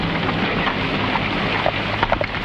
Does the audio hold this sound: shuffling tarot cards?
no